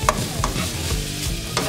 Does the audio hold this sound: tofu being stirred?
yes